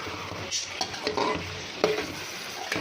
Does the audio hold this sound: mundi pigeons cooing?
no